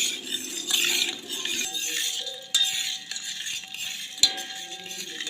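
Spoon stirring finely chopped jaggery in water to dissolve it for homemade sugarcane-style juice, with soft scraping and light clinks against the pot, close and steady, plus a faint tonal hum in the background.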